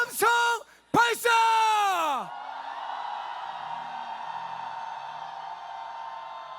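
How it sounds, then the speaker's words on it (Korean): A large crowd at a big Seoul rally: two powerful drawn-out shouted calls open, then a broad, sustained roar of many voices cheering together at a distance. "전체 함성 발사"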